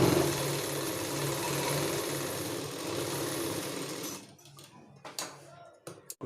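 A sewing machine sews a straight seam on a saree blouse, whirring steadily for about four seconds before stopping, followed by a few handling knocks and faint speech.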